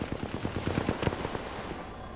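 Rapid bursts of automatic gunfire from a video game firefight, a quick run of sharp shots crowding together before thinning out, fairly close and alone without talk.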